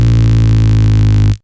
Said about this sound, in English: we're just gonna add distortion onto this